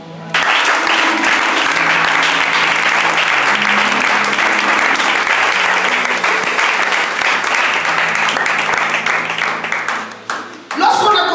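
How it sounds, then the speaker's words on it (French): A church congregation bursts into loud, dense applause during a sermon. The clapping holds steady for about ten seconds, then thins and stops abruptly. "Quelqu'un acclame."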